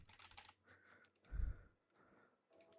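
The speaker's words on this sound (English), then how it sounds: "So this is me typing and talking." Someone types on a computer keyboard, sending quiet, irregular bursts of key clicks close by, with one louder thump partway through and short pauses between flurries.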